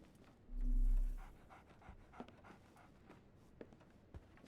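Dog panting in the video game Sherlock Holmes The Awakened, soft rhythmic breaths behind a louder low swell near the start, with scattered faint clicks and ambient game noise.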